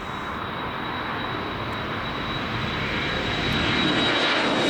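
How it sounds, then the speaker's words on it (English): A Jet2 Boeing 737-300 airliner, 26 years old, departs for Alicante, its engines giving a steady, loud roar that builds slightly toward the end, with no talk over it. "Jet2 Summer Holidays going off to Alicante here, Boeing 737-300."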